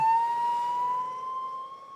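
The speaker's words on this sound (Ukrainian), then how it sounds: "Хор сирен наповнив повітря." Emergency sirens wail together in a slowly rising sustained tone, loud at first and easing slightly toward the end, with no voices over it.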